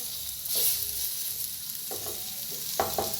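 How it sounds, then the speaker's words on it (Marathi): Green chillies roast in a hot pan with a steady, close frying sizzle, broken by a few soft clicks and stirring scrapes. "बघा मस्त अशा मिरच्या आपल्या भाजायला लागल्या"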